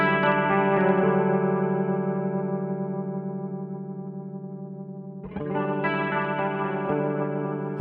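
Sustained organ-like tone swirling through a Helix triple rotary speaker effect modelled on the Yamaha RA-200, spread wide in stereo, shimmering chorus-like movement, with a fresh chord struck near the end.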